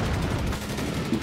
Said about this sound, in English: Shoot up with the HMG!